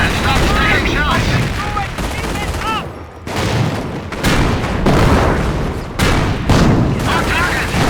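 Tank and infantry gunfire from the Company of Heroes video game. Loud, continuous volleys of machine-gun fire and heavy booms overlap with barely a break, and voices call out through the din.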